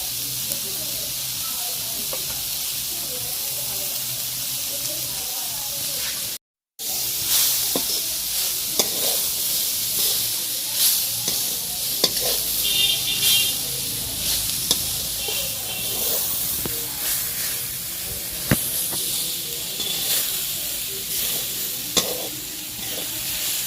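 Onion frying in a pan for chowmein: a loud, continuous sizzle and hiss with stirring scrapes and clicks, broken by a brief silent gap early on, then sizzling steadily on.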